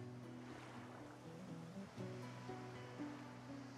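Ocean waves lap and wash in a soft, continuous surf in the game Divinity: Original Sin 2, faint and distant beneath sustained low tonal music.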